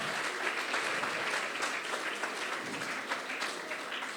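Audience applauding a student contestant at a French-language eloquence tournament, a sustained dense patter of many hands clapping throughout, fairly close and even in loudness.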